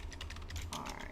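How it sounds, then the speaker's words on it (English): Quick bursts of typing on a computer keyboard, light rapid key clicks close by and fairly quiet, with a low hum underneath. "I want to type it down"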